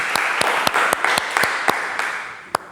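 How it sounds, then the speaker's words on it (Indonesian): Students in a classroom clap their hands, a steady noisy patter with several sharper individual claps standing out, ending with one last clear clap. "Tepuk tangan dong"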